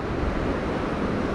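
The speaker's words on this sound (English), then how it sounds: "this beach, Nantasket Beach, actually has surf." Ocean surf rolling in at Nantasket Beach in Hull, Massachusetts: a steady, continuous wash of breaking waves with some wind rush, fairly loud and close, with no voices.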